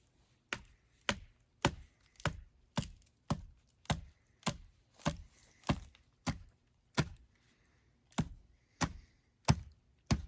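A knife chops into a big wooden stick over and over, sharp dry wooden knocks landing about twice a second in a steady rhythm, close and clear with no talk.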